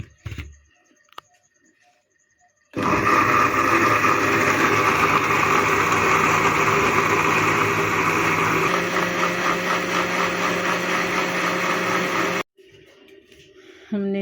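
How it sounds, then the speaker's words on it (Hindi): An electric mixer grinder blends half a peach with a glass of water in its jar. The motor switches on abruptly, runs loud and steady for about ten seconds with a slight shift in pitch, then stops. "और इसको ग्राइंड करेंगे"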